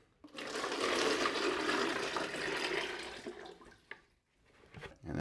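Water pours steadily into a narrow container for mixing plaster for a slip-cast mold, a continuous close splashing rush for about three seconds that tapers off into a few faint drips and knocks.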